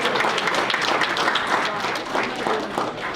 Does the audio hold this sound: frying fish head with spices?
no